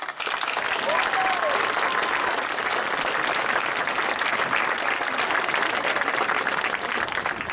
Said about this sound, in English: Let's give the parents a round of applause.